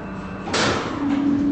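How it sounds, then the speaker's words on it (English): Elevator doors in a Roblox game, a ThyssenKrupp Endura MRL lift, slide open with a sudden loud whoosh, followed by a steady tone as the doors settle, all within a short, close, game-rendered sound. "Doors opening."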